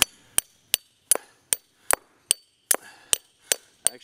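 Sharp hammer strikes drive small pegs into drilled holes in the ground one at a time at a steady pace, about ten crisp blows in four seconds, close by and alone with no talking.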